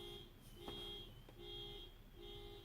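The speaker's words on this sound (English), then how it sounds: "I do wish somebody would turn that car alarm off." A car alarm blares nearby in a repeating two-tone wail, steady high siren tones cycling on and off with a couple of brief clicks in between, no talking.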